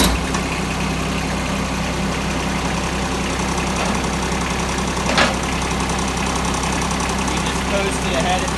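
A John Deere 2210 compact tractor idles with a steady, loud, low diesel rumble and slight knock, running evenly throughout with a brief click partway through.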